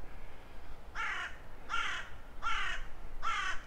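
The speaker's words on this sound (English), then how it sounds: "Some noisy birds around here." Crows caw in the New Forest, four loud harsh calls evenly spaced about a second apart over quiet woodland background.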